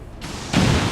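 A rocket explosion in the video game XCOM 2 lands as a sudden loud broadband blast after a brief quieter lead-in, sustaining its roar to the end without any voices.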